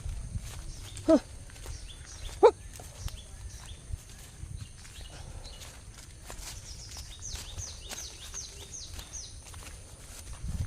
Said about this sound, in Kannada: ಇವಾಗ ಎರಡು ಕರುಗಳನ್ನು ನಾನು ಕೊಂಡೋಗ್ತಾ ಇದ್ದೇನೆ